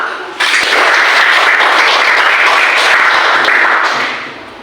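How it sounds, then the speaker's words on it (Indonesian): A class in an arts and culture lesson applauds together, a dense, steady wash of clapping that starts abruptly and holds at full loudness for about four seconds before tapering off. "Oke, tepuk tangan untuk"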